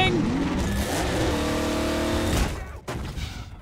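Car engine in the video game Half-Life 2 Episode Two, a loud, close roar with revving harmonics that drops away sharply near the end, with a voice talking over it.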